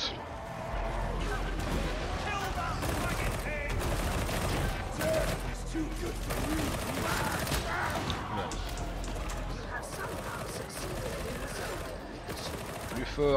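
Sustained machine gun fire in the game Warhammer 40k Darktide, a dense continuous rattle of shots with heavy low rumble and clatter, loud and steady throughout with no pauses.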